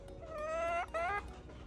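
A gamecock rooster gives two short clucks close by, the second after a brief pause, fairly quiet against a low background.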